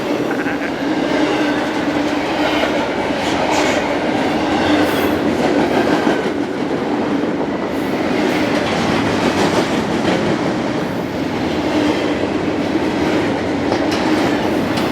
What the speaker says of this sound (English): Westbound freight going to Hobart